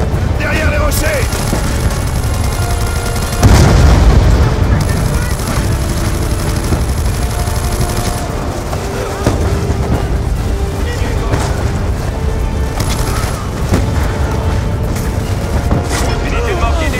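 Mortar blasts and gunfire from a war video game fill the clip with a dense, loud barrage of booms and rattling shots, including a heavy explosion near four seconds, with voices talking over the battle.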